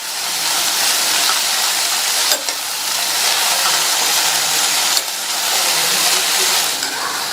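Spinach sautéing in a pan, a loud continuous hiss and sizzle lasting several seconds with two brief sharp knocks partway through, no voices.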